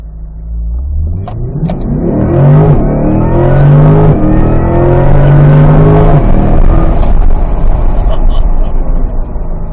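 A 2024 Corvette E-Ray launching hard on a 0-60 run, engine roaring up through rising revs and a gear change, loud and close from inside the car, with occupants talking over it.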